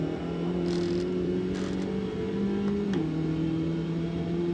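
A race car engine in Automobilista 2 on the Cascavel circuit, a steady loud engine drone holding its pitch, then dropping slightly as the gears shift down, with no talking.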